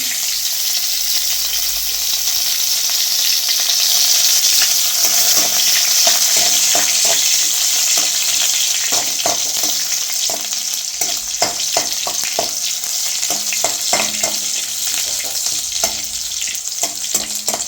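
Steady loud sizzle of dried red chilies frying in hot oil with shallots, with scattered sharp crackles and pops growing busier toward the end; no voices.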